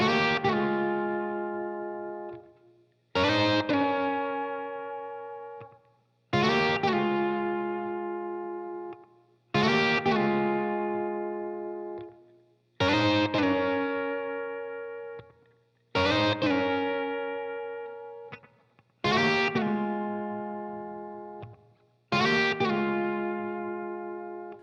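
Electric guitar plays a 12-bar blues progression, eight evenly spaced loud chord hits, each ringing and fading before the next, with a slightly distorted, chorused tone.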